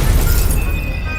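A Stupefy spell cast in Hogwarts Legacy lands as a loud, brief burst with a shattering, crashing quality that fades quickly into a thin ringing tail.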